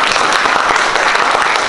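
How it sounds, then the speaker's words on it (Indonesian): An audience at a public speaking class claps, a dense and loud burst of applause that holds steady throughout, with no voices above it. "kasih tepuk tangan dong"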